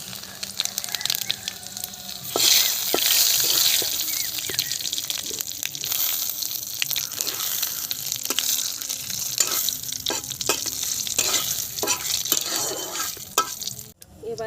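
Four dried red chillies, bay leaf and white cumin crackle in hot oil as a tempering in a home kitchen, a bright, fairly loud sizzle with sharp pops and spatters that surges after a few seconds and cuts off abruptly near the end.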